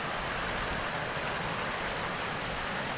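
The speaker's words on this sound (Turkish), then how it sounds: "Şelaleye bu farklı taraftan e, su düşüyor." Stream water spills over a waterfall at a creek in a rural Bayburt picnic area, a loud, constant broadband rush close by with no pauses and no voices.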